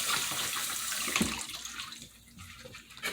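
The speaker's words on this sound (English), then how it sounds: "You're going to rinse it thoroughly. You should rinse it really good." Red snapper being rinsed under a running kitchen tap, a steady close hiss of flowing water with brief splashes as the fish moves in the stream, no voices.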